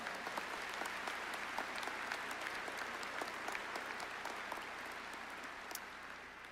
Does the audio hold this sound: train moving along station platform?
no